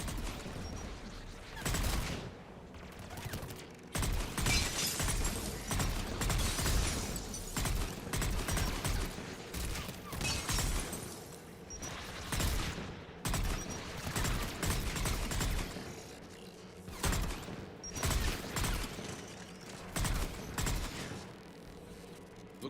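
Anti-aircraft gunfire in Mass Effect, repeated bursts of heavy booming fire in uneven clusters with mechanical clatter between them, fairly faint and continuing for over twenty seconds.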